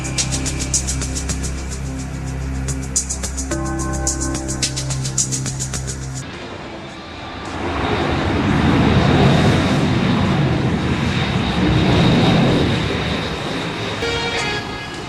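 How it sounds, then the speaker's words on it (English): A B-52 Stratofortress bomber passes at an air show, a broad rising jet roar swelling loudly and lingering as a rumbling wash, after a stretch of music-like tones at the start. "Ladies and gentlemen, the B-52 Stratofortress."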